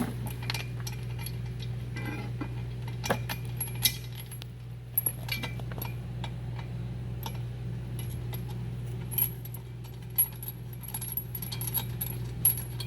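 A ratchet runs bolts up during a bumper-seat install on a three-seat Can-Am Maverick X3 UTV. Sporadic metallic clicks and clinks sit close over a steady low hum.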